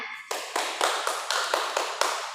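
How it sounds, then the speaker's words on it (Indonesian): A class of students in a classroom lesson clap their hands together in a quick, even rhythm, about eight crisp synchronized claps, close and fairly loud, with no talking. "Kita beri tepuk tangan."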